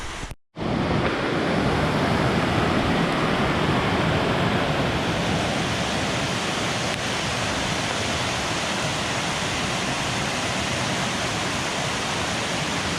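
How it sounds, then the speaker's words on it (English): A brook swollen by rain rushes in a steady, dense roar of water that fills the whole span, constant and close, with no voices. "I've never seen that brook like that before"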